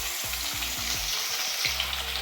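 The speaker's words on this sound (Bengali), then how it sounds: "মাছ ভাজা হচ্ছে" Fish frying in hot oil in a home kitchen during a festive Poush Parbon cooking session, a steady bright sizzle with a few low thumps and clatters of stirring, close and loud, with no voices.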